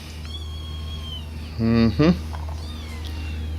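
Two short, close meows from a striped cat come one right after the other mid-clip over a steady low hum, and a person says a word before them.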